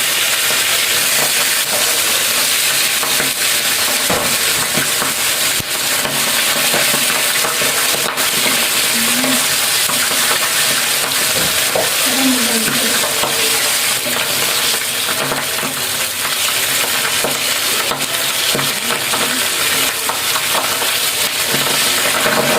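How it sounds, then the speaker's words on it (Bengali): Pabda fish frying in a pan with oil, a continuous loud sizzle and hiss that runs steadily, with occasional faint clinks and stirring. "এভাবে করে বাকি মাছগুলো ভেজে নেবেন।"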